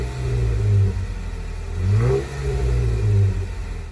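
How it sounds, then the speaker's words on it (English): A 2017 Jeep Wrangler with an axle-back exhaust revs a few times, a mid-low engine rumble swelling and easing in steady pulses, close and fairly loud with no talk. "I wanted to have that little bit of rumble, but not too aggressive rumble."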